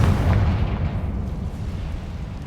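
A Confringo blasting spell erupts in a Harry Potter video game, a single loud booming explosion with a heavy low rumble that decays over a couple of seconds, with no talking.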